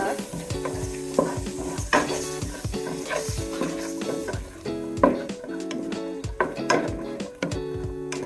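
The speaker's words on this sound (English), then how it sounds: "let me go in with the onions. And then let's mix that" Onions fry in a pan for a Kenyan ndengu dish, a close, steady sizzle broken by repeated metallic scrapes and clinks as a utensil stirs them in uneven bursts, with no talking.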